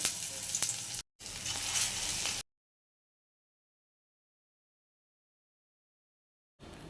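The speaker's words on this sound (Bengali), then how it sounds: "এবার কড়াতে একটা একটা করে মোচার বড়াগুলো এরকম করে করে ভাজবো।" Banana flower fritters crackle and hiss loudly in hot oil in two close bursts, then a long silence before the sizzling briefly returns.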